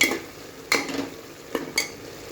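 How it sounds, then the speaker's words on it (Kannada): Vegetable pulao with salt being stirred in a pan, a few short scraping strokes of a spoon against the metal over a faint background, with no voices. "ಮಿಕ್ಸ್ಡ್ ವೆಲ್, ಕ್ಲೀನಾಗಿ ಮಿಕ್ಸ್ ಮಾಡಿ."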